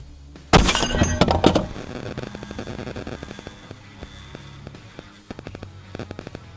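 A rifle fires at an AR500 steel target from the back of a Suburban, opening with one loud blast and a burst of crashing noise, then scattered light metallic ticks and clinks that trail off.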